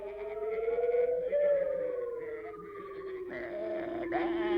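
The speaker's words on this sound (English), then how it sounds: "the sheep were frightened of Ivor, but they were terrified of the dragons" Cartoon sheep bleat in a wavering, drawn-out chorus of overlapping voices, close and moderately loud, with a few sharper bleats near the end.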